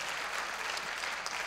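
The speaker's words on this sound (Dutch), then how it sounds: "Laten we iedereen online even een applaus geven." Brief burst of dense applause from a church congregation during a service, a uniform wash of many clapping hands at moderate, steady volume with no speech over it.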